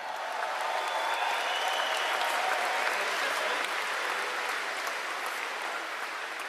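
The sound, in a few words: audience applause at a political rally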